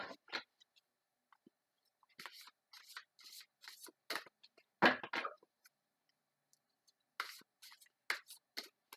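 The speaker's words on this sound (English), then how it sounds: "we're going to shuffle up the deck of tarot" Dry papery riffles and soft slaps of a tarot deck being shuffled in short bursts, close by, with brief pauses between them.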